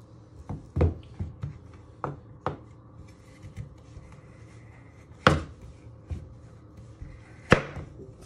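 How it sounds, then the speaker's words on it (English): A sharp knife dicing a de-seeded vegetable into small pieces on a cutting board, heard as crisp, irregular chops with short pauses, two louder strikes standing out, and no talking. "And you want to dice it into little small pieces, just like that."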